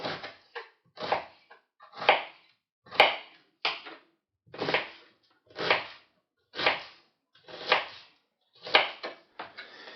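A knife dices an onion on a cutting board, about a dozen sharp strokes at an even pace, close up, with quiet gaps between them.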